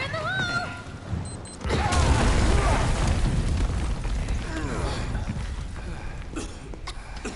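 A deep, broad explosion booms in Final Fantasy VII Remake on PS5, rising suddenly and rumbling on for several seconds, with voices heard before and after the blast.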